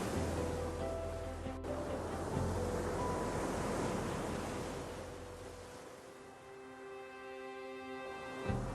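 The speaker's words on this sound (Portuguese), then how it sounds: "o som constante do oceano continua presente, batendo diretamente contra a base da falésia" Atlantic ocean waves striking the base of a sea cliff on the Portuguese coast, a steady broadband roar of surf with wind, continuous throughout and easing slightly near the end.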